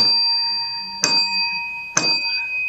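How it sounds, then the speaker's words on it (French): Two resonant gong strikes, each a sharp attack followed by a long ringing tone over a sustained hum, sounded to open a speaking session at an oratory and leadership school. "3 coups de gong EAO"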